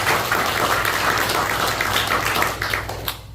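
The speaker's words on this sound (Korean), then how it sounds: "박수를 다시 드리고 싶습니다" Congregation applause at a Korean church thanksgiving service for a pastor's retirement and installation, a full, close wash of clapping that stays steady and then thins out in the last moments.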